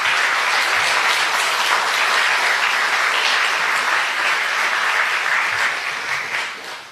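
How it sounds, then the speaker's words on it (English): Sustained audience applause for volunteers at a town caucus meeting, a steady dense wash of clapping from a crowd indoors that holds loud for several seconds and then tapers off. "So please join me now in a round of applause for all of the Caucus volunteers."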